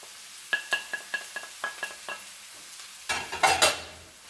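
A spoon stirs fish roll filling seasoned with Cameroon pepper and curry in a pan, giving a run of about eight quick, sharp utensil knocks followed by a louder clattering scrape over a faint sizzle, close and without speech.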